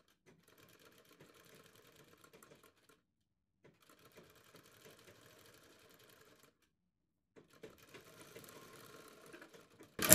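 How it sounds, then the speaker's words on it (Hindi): Quiet bursts of a sewing machine stitching fabric folded over buckram for a party-wear neck design, three runs of rapid even needle clatter separated by pauses, ending with a louder knock. "इस कपड़े को हम बुकरम के ऊपर ऐसे फोल्ड करेंगे और यहाँ पर सिलाई लगाएंगे।"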